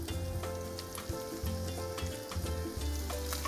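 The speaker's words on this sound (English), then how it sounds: "shallots kind of sauteing here" Shallots, corn, red peppers and green onions sauté in a hot pan on medium-high heat, a loud continuous sizzle and crackle up close with bursts of stirring and pan scraping.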